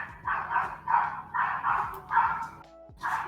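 A dog barks repeatedly in short, evenly spaced bursts, fairly close and loud, over a steady low droning hum in a cold setting.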